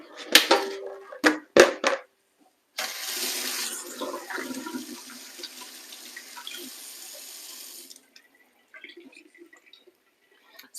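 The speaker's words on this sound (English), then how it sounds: "I'm gonna wash my hand." A kitchen tap running while hands are washed: a few sharp clunks of handling, then a steady rush of water for about five seconds before it shuts off, with faint trickles and drips afterward.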